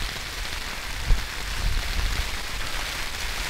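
Steady rain hisses down around a tent during a storm in a remote Swedish mountain valley, a dense, even wash of drops with a few slightly louder patters and no voices.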